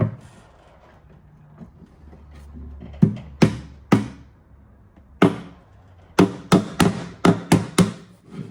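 A hammer drives nails to fix a loose, re-glued drawer slide back onto a mid-century dresser, giving sharp close knocks, first in a few separate strikes and then a quicker run of repeated blows.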